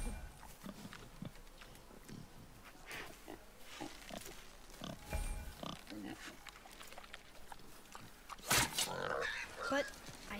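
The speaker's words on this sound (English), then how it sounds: "Wild boar's hide is thick." A wild boar in the God of War video game grunts and snorts in short, irregular bursts over a quiet forest backdrop, with a louder, sharper squeal near the end.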